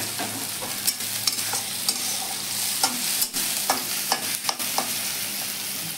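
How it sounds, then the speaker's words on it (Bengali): Ginger and green chili fry in oil in a pan with a steady, close sizzle, while a spoon scrapes and taps at irregular intervals. No voices can be heard. "আদা একটু ভেজে নেব। তার সাথে কাঁচা লঙ্কাও দিয়ে দেব।"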